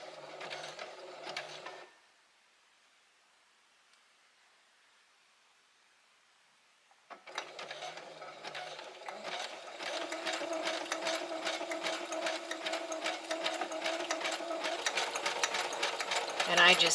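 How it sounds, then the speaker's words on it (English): Sewing machine back-stitching across denim fabric on a rope bowl, a brief burst of rapid mechanical chatter, then quiet, then a longer steady run of stitching close to the microphone. "I'm just going to do a back stitch."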